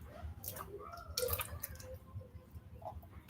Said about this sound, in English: you take your milk and you pour it evenly